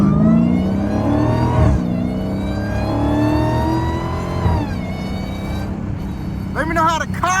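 A Dodge Hellcat engine revs and accelerates up close, roaring loudly with a rising, climbing pitch that repeats through several pulls before easing near the end.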